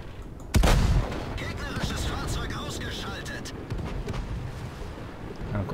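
A tank cannon fires in the World of Tanks video game, a single sharp, heavy blast with a booming low tail, followed by a rumbling battlefield and scattered distant impacts.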